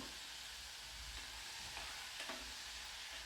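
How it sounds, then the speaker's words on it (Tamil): Tomatoes sautéing in a pan for tomato kadaisal, a dense, loud, continuous sizzle with a couple of faint stirring scrapes, close and without talk. "நல்லா வதக்கி விடலாங்க"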